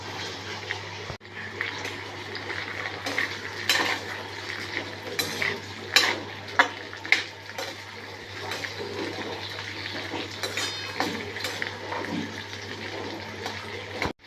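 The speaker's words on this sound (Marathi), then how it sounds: "आपल्याला ह्या भाज्या आपण ज्या कापून ठेवल्या आहेत थोड्याशा तेलावर फ्राय करून घ्यायच्या" Chopped French beans frying in a little oil, a steady soft sizzle with scattered clinks and scrapes of a spoon stirring against the pan, fairly close, with no talking.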